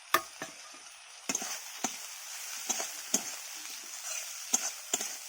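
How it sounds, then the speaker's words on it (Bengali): Fish oil and a fried fish head go into a pan of cooking lotus-root stems, giving quiet sizzling broken by a series of sharp scraping stirs and clinks. "এবারে ভাজা মাছের তেল আর মাছের মাথা ভাজাটা দিয়ে দিলাম।"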